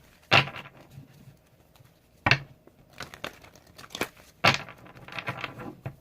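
Tarot cards being shuffled during a reading, giving sharp crinkling riffles in three main bursts with softer handling noises between, close and alone.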